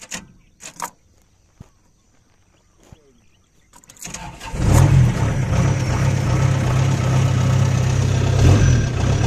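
A rice harvester engine with a newly repaired starter cranks after a few clanks and knocks, then catches and settles into a loud, steady mid-pitched running rumble nearby.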